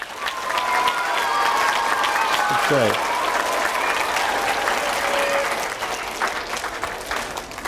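An audience at a school data presentation gives a sustained round of applause, dense clapping from a crowd with a voice briefly speaking over it before the clapping fades near the end.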